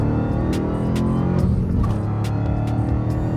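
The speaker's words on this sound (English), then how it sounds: "The absolute best thing about a Hellcat are the noises." Dodge Hellcat engine with supercharger runs steadily and loudly throughout, a dense continuous mechanical drone with whine overtones and a few brief sharper bursts, no voices.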